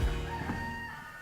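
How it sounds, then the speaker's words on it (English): A neighbouring rooster crows outdoors in the early morning, a single sustained call at a moderate distance with steady background ambience and no talking. "The neighbor's rooster is giving us good luck."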